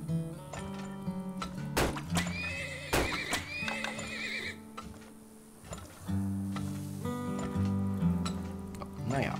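A horse neighs repeatedly in the Turmoil oil-drilling game, shrill whinnies rising over a steady layered backdrop of game music and ambient tones, with occasional knocks and hoof-like clops, loud and close throughout.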